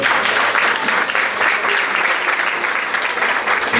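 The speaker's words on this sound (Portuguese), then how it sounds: "Dê uma salva de palmas para Jesus." Loud, sustained clapping from a large church congregation, close and energetic, swelling slightly in waves throughout.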